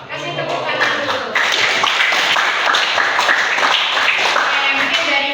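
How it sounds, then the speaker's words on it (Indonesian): Classroom applause from a group of students, dense steady clapping lasting several seconds, close and fairly loud, filling the room without pause. "Kasih tepuk tangan dulu."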